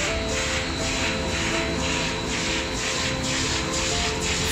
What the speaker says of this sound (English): In this video, it is CNC rotary cutting machine.